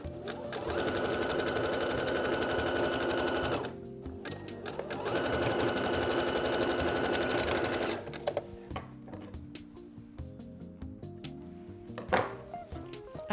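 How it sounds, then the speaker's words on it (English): A sewing machine zigzag-stitches elastic flat onto a bra in two long, steady, close runs broken by a brief pause, followed by quieter clicks and handling sounds. "we're just going to zigzag stitch to keep that elastic sitting really nice and flat"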